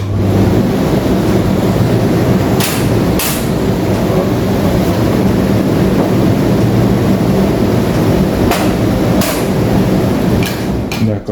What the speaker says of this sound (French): le plateau aspirant, c'est une soufflerie branchée sur un plateau en métal avec des petits trous